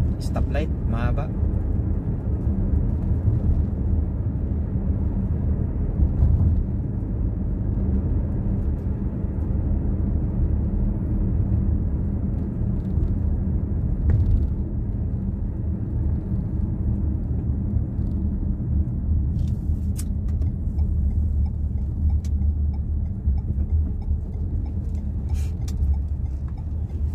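Dense road traffic backed up at the Takasusi stoplight, heard as a steady, loud low rumble of idling and crawling cars that runs unbroken from start to finish.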